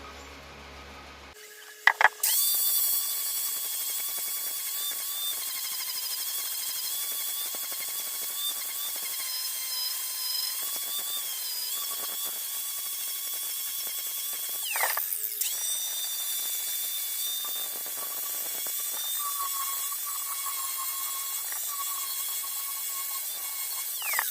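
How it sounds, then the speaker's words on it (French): Rotary tool running steadily while engraving a steel axe blade, a high continuous whine with a brief pause and restart midway, alone and fairly close. "Je vais essayer de graver la lame."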